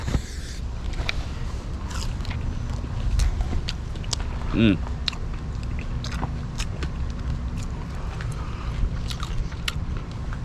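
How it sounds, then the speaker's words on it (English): Someone bites and chews warm seasoned fries at a Dave's Hot Chicken restaurant in Toronto, with soft crunches and mouth sounds set against busy dining-room ambience and background voices. "Alright, I'm gonna try some of these fries."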